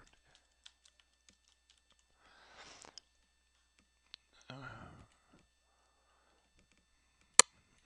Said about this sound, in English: I'm just going to type in Darrington up here